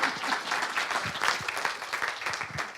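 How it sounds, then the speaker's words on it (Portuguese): Audience applause during a training session on adverse events: dense, steady clapping from a group, moderately loud and continuous throughout. "Palmas para a Fabiana."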